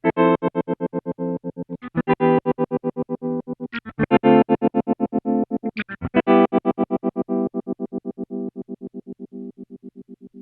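A BOSS SL-2 Slicer pedal with its attack turned fully down chops a sustained distorted guitar tone into a fast, steady train of soft-edged pulses for about ten seconds, with a few chord changes and no talking.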